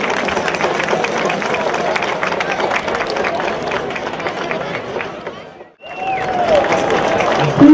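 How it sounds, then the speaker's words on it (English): A crowd in the stands at the Abington vs Whitman Thanksgiving high school football game applauds the senior cheerleaders, a steady wash of clapping and chatter that briefly cuts out near the end before returning. "Let's have a nice round of applause for our senior cheerleaders."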